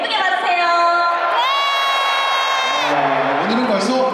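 Large concert crowd at an indoor arena show in Seoul roaring and cheering, with high shouts and whoops swelling loudly, then a host's voice cutting in near the end.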